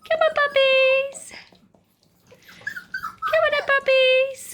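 Springer Spaniel puppies three to four weeks old let out high, tonal whines and whimpers in two close bursts with a quiet gap between, alongside a person calling to them.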